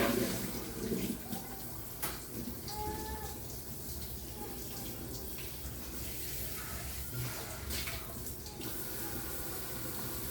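Water runs steadily from a tap, a soft continuous splashing with faint clinks and bumps in the background.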